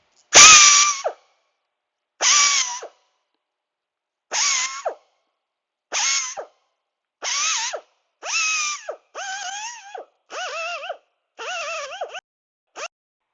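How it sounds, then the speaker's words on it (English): A small die grinder spins a Scotch-Brite hub cleaner disc against the front brake hub of a 2010 Mustang GT, running in about ten short, loud whining bursts with brief gaps between them, close up and with no talk. "I bought them the little die grinder"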